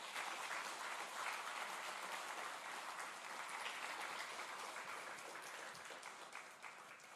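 A church congregation applauding during a Sunday worship service, a steady, continuous wash of many hands clapping, fairly soft and distant, tapering slightly toward the end.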